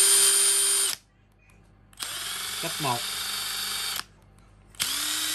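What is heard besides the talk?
Makita TD137D cordless impact driver running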